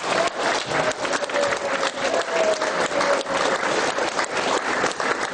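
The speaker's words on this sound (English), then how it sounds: "They deserve a round of applause." Audience at a veterans' issues town meeting in Brattleboro, Vermont claps for the staff, a close, steady burst of many hands applauding continuously with no talk over it.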